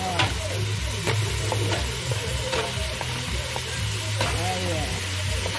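Crabs sizzle loudly on toasted garlic in a pan, a dense close frying hiss broken by repeated scrapes and knocks of stirring, with a voice speaking softly underneath.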